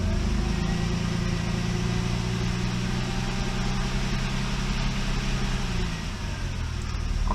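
A Mercedes 300TE W124 engine runs steadily nearby with a low, even drone and a slight change near the end as it is given some gas; no talking.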